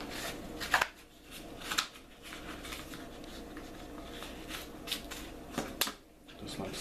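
Kitchen shears snipping through a cardboard egg carton being made into fire starters, a few crisp cuts spaced about a second apart over steady low room noise, close by.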